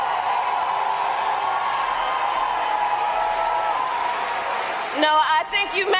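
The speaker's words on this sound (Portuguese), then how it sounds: "O pessoal tudo aplaudindo, enlouquecido." A political rally crowd applauds and cheers in a continuous, roaring wash that holds steady for about five seconds. A voice then cuts in over it near the end.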